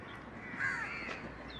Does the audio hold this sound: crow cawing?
yes